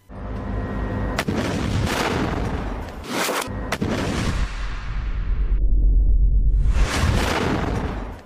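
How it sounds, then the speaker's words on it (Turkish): Loud heavy blasts of a handheld rocket launcher fired at an Israeli tank in Gaza, with sharp booming impacts, rumbling explosion and a long low roar, several bursts dense and close. "Hamas direnişçisi elindeki roketle İsrail tankını hedef aldı. Hedefini tam 12'den vurdu."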